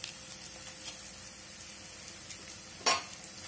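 A spoon stirs Maggi masala into corn in a pan, giving a soft sizzle with a faint steady hum and one brief louder scrape near the end.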